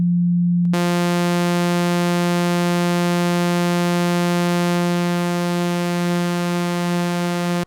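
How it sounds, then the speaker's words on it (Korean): A Modal Electronics COBALT 8 synthesizer sounds a single steady algorithm oscillator tone, rich in stacked harmonics, holding loud and unbroken for about seven seconds after a brief silent start. "이런 알고리즘 두 개를 섞어서 조금 더 독창적인 오실레이터 사운드를 만들 수 있습니다."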